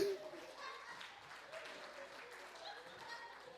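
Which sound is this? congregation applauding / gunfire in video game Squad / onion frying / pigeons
congregation applauding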